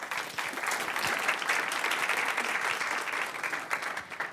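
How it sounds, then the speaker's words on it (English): A room of attendees at a city council meeting claps together after an Earth Day and Arbor Day proclamation, a steady, moderately loud round of applause lasting a few seconds. "Can I get a round of applause, please?"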